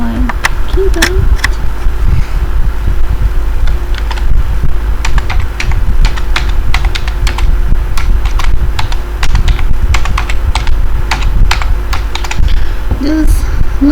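Continuous rapid typing on a computer keyboard while writing code, with steady close-up key clicks throughout over a low background hum.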